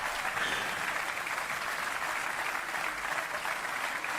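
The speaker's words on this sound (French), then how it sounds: "Et vous applaudissez parce qu'on le sait tous ici." Audience applause at a live stand-up comedy show by Fabrice Éboué, dense and steady clapping from a large crowd that holds evenly throughout without talk.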